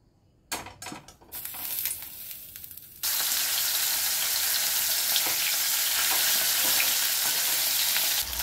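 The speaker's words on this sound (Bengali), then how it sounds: "তেলটা গরম হয়ে গেছে, এখন আমি মাছের মাথাটা ভেজে নেব" Loud, steady sizzle of a hilsa fish head frying in hot oil, jumping up sharply after a few seconds of quieter clatter, then crackling evenly to the end.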